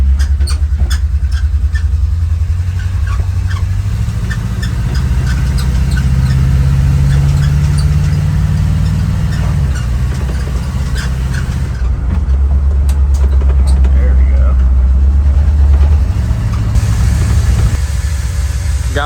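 A 1978 GMC Jimmy engine runs steadily through a test drive, a loud close drone that rises and falls in pitch as the truck shifts and accelerates, with faint squeals and no talk.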